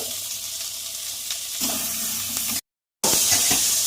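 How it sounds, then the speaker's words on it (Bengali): Pointed gourd fries in hot oil with a constant crackling sizzle, growing louder partway through, then a brief gap of silence before the frying resumes. "পটলগুলোকে খুব সুন্দর করে ভাজা হবে"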